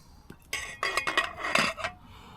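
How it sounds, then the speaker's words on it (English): Vegetables with garlic are mixed in a cooking pan, with a utensil clattering and scraping against the metal in several quick, close strokes and no voices. "So I'm going to mix that in."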